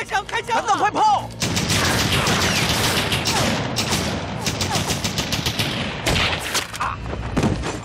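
Dense rapid bursts of automatic gunfire in a wartime firefight against Japanese troops, loud and close, rattling on for several seconds with shouting voices mixed in.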